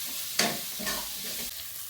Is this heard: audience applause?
no